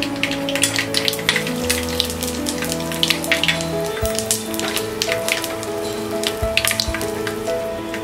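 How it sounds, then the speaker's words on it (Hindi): Mustard seeds and cumin spluttering in hot oil while tempering masoor dal khichdi, a dense run of sharp crackles and pops that continues for the whole stretch over steady background music, with no talking. "राई और जीरा स्प्लटर होने के बाद हम डालेंगे ये हींग"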